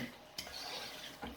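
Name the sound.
stirring beef tongue sauce in a pot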